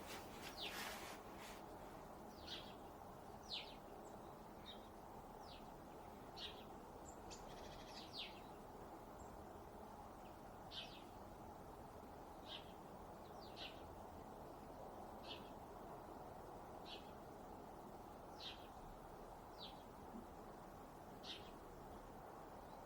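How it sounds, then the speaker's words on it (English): Small birds singing outdoors in the European countryside, short bright chirps and calls repeating every second or two at a distance over a steady, faint background hiss. "Just want to take a moment to listen to the birds."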